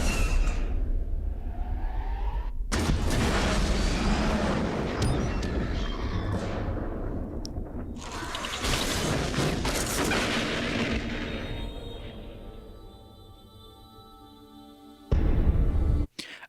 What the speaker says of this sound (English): The explosion looks really cool.